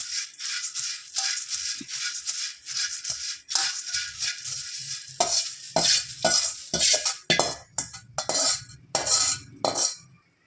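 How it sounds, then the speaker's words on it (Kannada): White churumuri puffed rice being tossed with masala in a bowl makes dry, crunchy rustling and rattling in quick irregular bursts, close by, with short pauses between strokes. "ಸ್ವಲ್ಪ ವೈಟ್ ಚುರುಮುರಿನ ಇದಕ್ಕೆ ಹಾಕ್ಕೊಂಡ್ಬಿಟ್ಟು ಚೆನ್ನಾಗಿ ಮಿಕ್ಸ್ ಮಾಡಿಕೊಂಡು ಹಾಕ್ಕೊಳ್ಳೋದು"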